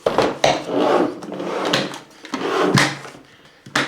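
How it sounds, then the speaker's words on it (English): Dust compartment of a Philips 2000 Series XD2152 vacuum cleaner being pulled open, giving loud, close plastic scraping and rubbing in two long strokes, then a sharp click at the end. "Pull and you can open the dust compartment."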